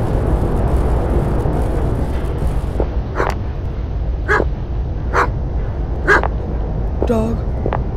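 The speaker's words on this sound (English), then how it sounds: "Dog." Inside the horror video game Stay Out Of The House, a dog barks in five or six sharp, spaced yaps over a constant low rumbling ambience, gradually getting a bit clearer.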